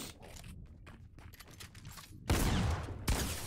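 Video game gunfire comes as two loud, sustained bursts near the end, preceded by quieter scuffs and small clicks.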